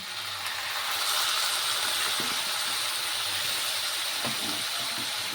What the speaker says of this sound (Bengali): উপর থেকে সামান্য পরিমাণে জল দিয়ে দেব।